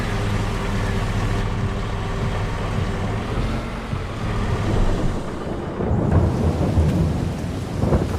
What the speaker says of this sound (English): hang out at the house, wait for the rain to stop.